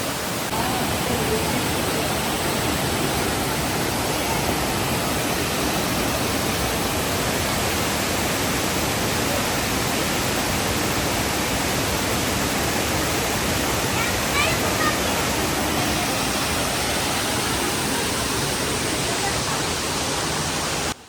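At the Aruvikuzhi waterfall in Kottayam, muddy water crashes down in a loud, unbroken roar heard up close, holding steady with no let-up as light rain falls.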